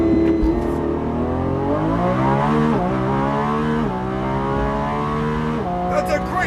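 A Lamborghini Revuelto launches on a quarter-mile run, its engine revving hard and climbing through repeated rising pulls with shifts between them, loud and close, while people talk excitedly over it.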